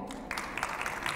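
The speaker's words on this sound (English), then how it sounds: "That's the applause" Audience applause at a breast cancer awareness press conference, a soft, steady patter of many hands starting a moment in and continuing evenly, heard from a distance.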